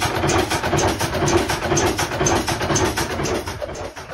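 A black engine runs in a Pakistani village with a close, steady, rough chugging and a fast regular pulse throughout. No one speaks.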